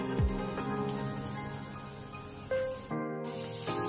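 Onion, coconut, ginger and garlic fry in a pan for Kolhapuri misal, making a steady, close sizzling hiss with a few brief bursts and no talking.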